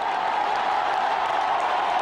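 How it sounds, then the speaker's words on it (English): A large cricket stadium crowd roars and applauds continuously at a T20 match, a dense wash of cheering and clapping at steady volume throughout. "The crowd go nuts."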